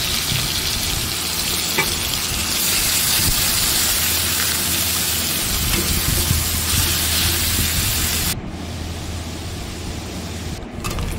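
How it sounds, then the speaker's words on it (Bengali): Grated onion sizzles steadily in hot oil in a home kitchen pan and is stirred now and then, a dense, close frying hiss that runs on and briefly thins out near the end. "সেই গ্রেট করা পেঁয়াজটা আমি তেলের মধ্যে দিয়ে দিয়েছি"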